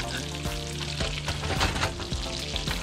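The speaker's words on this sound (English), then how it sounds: "All that hot oil and all that butter is going to be cooking that fish." Fresh trout sizzles loudly in hot oil and butter, a dense steady crackle with occasional soft scrapes of a spoon in the pan.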